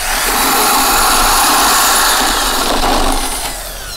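A homemade corn sheller machine runs loud and close, a dense continuous whirring and grinding roar that eases down slightly toward the end.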